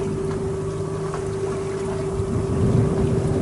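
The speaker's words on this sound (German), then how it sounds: "Leider haben wir zu wenig Wind, also müssen wir den Motor mitlaufen lassen" A sailboat's engine runs steadily while motoring through light wind at dawn, a constant low drone with a strong steady hum, plus faint wind and water wash, continuous and close throughout.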